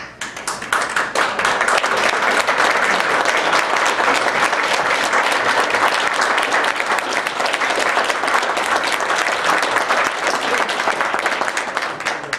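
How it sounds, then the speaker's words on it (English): A large luncheon audience applauds veterans at a memorial park gathering, a dense, steady wash of clapping that swells in within the first second and holds loud and even for the full stretch. "Veterans, please stand up so we can applaud them."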